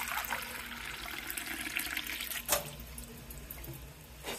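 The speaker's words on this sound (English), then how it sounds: "I think I might just put in a little bit of water" Water is poured into a simmering cooking pot, a soft, steady trickle and splash at close range with a brief louder gush midway.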